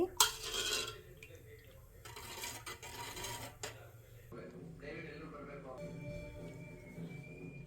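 A pot of milk stirred on the stove for homemade paneer, with a spoon scraping and clinking against the metal in bursts, close and fairly loud, while a person talks over it.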